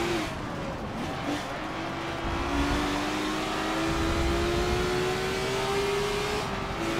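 Race cars in a Monza racing video game drone and whine as engines rise in pitch through the gears, a continuous mid-distance motor tone with a rising harmonic sweep and no talk.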